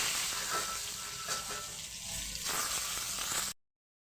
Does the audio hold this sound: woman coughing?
no